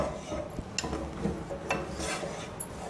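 A ground paste of green chilli, ginger and spices, including cardamom, is sautéed in a pan for a vegetable pulao. A soft, steady sizzle sits under repeated rubbing and scraping stir strokes, with no talk.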